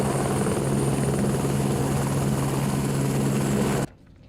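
A rescue helicopter searching during deadly Texas floods, its rotor drone loud, steady and close for nearly four seconds before cutting off abruptly.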